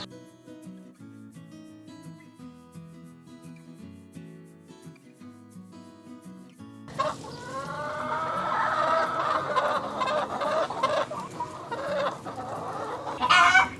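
Chickens in a backyard chicken yard cluck in a busy, overlapping chorus that starts abruptly midway and stays close and fairly loud, after a quieter opening with faint tonal background sound.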